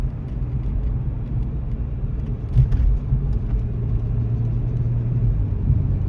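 Audi S5 with a 3-litre turbocharged V6 hums in a steady low rumble from inside the cabin on a clear road, cruising evenly without strong revving.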